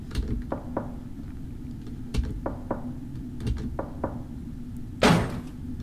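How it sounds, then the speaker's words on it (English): Several sharp knocks rap on the far girls' bathroom door in a video game, spaced irregularly over steady ambient hum, followed by a louder burst of noise near the end. "Let's go knock on the last door."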